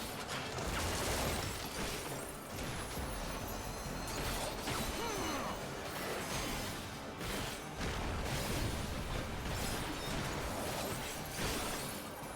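A needle gun skill firing in Final Fantasy XIV, a sustained dense mechanical rattling and clattering that runs steadily, mixed with game effects and no speech.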